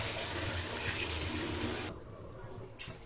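Water gushes steadily into a pot of basmati rice for a 1 kg chicken biryani, one and a half cups poured in a continuous stream that cuts off abruptly, followed by a brief quieter splash.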